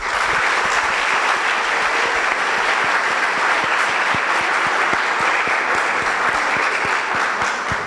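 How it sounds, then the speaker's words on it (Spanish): An audience applauds a Supreme Court judge at an arbitration panel, a sustained round of dense clapping from a full room, loud and even throughout. "yo pido un aplauso para él"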